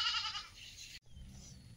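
A single wavering goat bleat, fairly close, fading into low background rumble.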